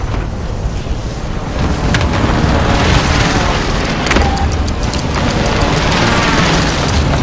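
Precision airstrike explosions in Call of Duty: Modern Warfare make loud, continuous rumbling booms that blend into a heavy, roaring wash for several seconds, with a rapid crackle near the end.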